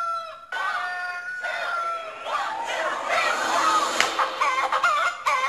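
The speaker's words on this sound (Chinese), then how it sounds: "刚刚那个公鸡叫不见了，再把公鸡再叫出来" A rooster crowing recording plays from a mobile phone, several drawn-out crows with clucking, fairly loud and close, with voices chattering over it.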